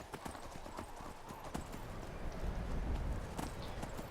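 Steady clip-clop of horse hooves trotting at an even rhythm in the video game The Elder Scrolls V: Skyrim, close and continuous, with a soft rumble of movement underneath.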